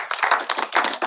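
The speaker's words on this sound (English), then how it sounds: "Please give them a round of applause." Short burst of applause for a presentation at a state Senate session, a few scattered claps rising and falling over about a second, moderately close with no voices.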